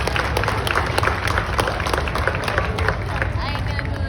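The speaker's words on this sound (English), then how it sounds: "Let's give them a nice big round of applause" Outdoor crowd applause at a Wild West re-enactment in Deadwood, loud continuous clapping mixed with crowd babble and wind-like noise for a few seconds.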